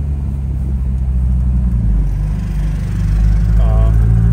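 A 1956 MGA sports car's engine rumbles loudly from inside the cabin while driving, rising and falling in pitch as the gears are shifted up and back down, with a voice talking over it.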